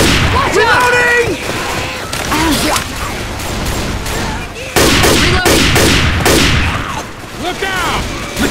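Rapid bursts of gunfire crack repeatedly in the Left 4 Dead 2 video game, loud and near, with layered shots and whooshes while players shout over the shooting.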